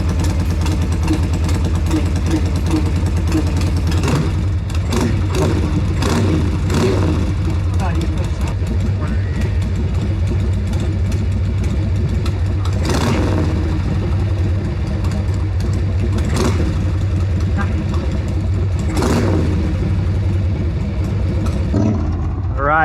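A Sportster chopper motorcycle engine runs loud and close while warming up, with a constant low rumble, occasional revs, and people talking over it.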